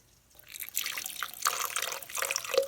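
Water poured into a blender jar holding garlic, cumin and a dried chile de árbol, a short splashing trickle that builds and runs steadily for a couple of seconds, close and moderately loud with no talking.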